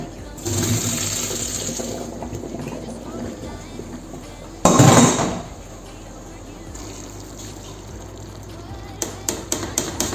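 Cooked pasta drained through a strainer, with a steady rush of pouring water and a louder splashing surge midway, over a constant mechanical hum and a few clicks near the end.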